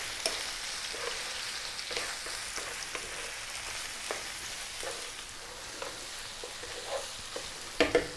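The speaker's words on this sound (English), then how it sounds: "Next up we're going to drop in that onion, 1 onion. I'm using a red onion which I've sliced. Also now going to add that tablespoon of garlic." Sliced red onion and a tablespoon of garlic frying in a pan, a steady low sizzle with occasional stirring scrapes and a couple of louder clatters at the very end.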